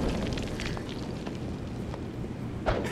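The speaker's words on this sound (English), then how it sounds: "explosion!" An explosion in The Thing video game, a loud rumbling burst with crackling debris that rolls on for a few seconds, with a sharper pop near the end.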